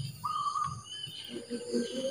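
Zebra doves (perkutut) call in the morning beside a fish pond in Boyolali. Soft, faint, brief calls sit among other light chirps in a quiet outdoor setting.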